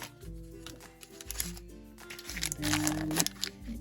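Shredded packing material from an unboxed MiniVerse Kitchen capsule is handled near the microphone, crinkling and rustling in soft, uneven bursts under quiet background tones.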